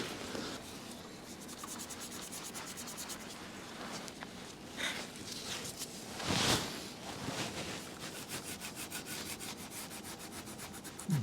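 Scuff pad rubbed over a corroded metal edge on a Mercedes, giving steady scratchy back-and-forth rubbing strokes, close and fairly quiet, with a brief louder scrape partway through.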